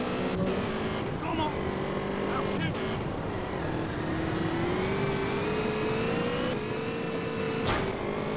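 A double-silencer motorbike engine in GTA San Andreas drones steadily throughout, its pitch rising and falling as it revs, loud and continuous under faint game noise.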